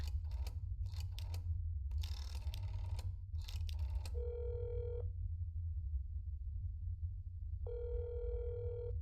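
Telephone call in the video game That's Not My Neighbor: a few quiet clicks and taps give way to a steady ringback tone that sounds for about a second, falls silent, then returns, all over a low constant hum.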